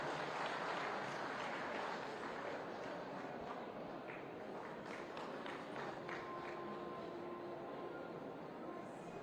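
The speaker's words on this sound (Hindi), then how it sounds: "आप सभी एक बार जोरदार तालियां हो जाएं।" Faint, distant applause from an audience at a hospital cancer unit inauguration honoring the chief minister, a soft continuous patter of clapping heard far off with some murmuring.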